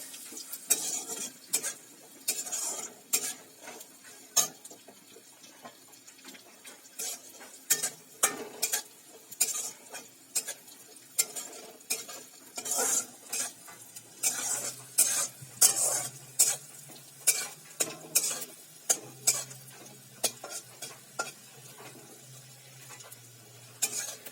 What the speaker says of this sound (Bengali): এগুলোকে একটু ভালো করে ভেজে নিতে হবে।